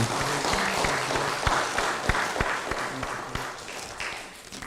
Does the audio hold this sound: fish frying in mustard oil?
no